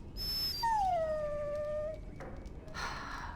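A dog in Dragon Age: Origins lets out a long, high, falling whimper-howl, clear and close over quiet game ambience, followed by a couple of shorter whines, with no speech.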